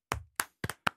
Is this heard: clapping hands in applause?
yes